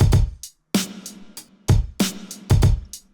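Snare drum added to a slow hip hop beat: sharp, reverb-washed cracks ring out over thumping kicks and ticking hi-hats in a steady looping groove, loud and dense with no voices.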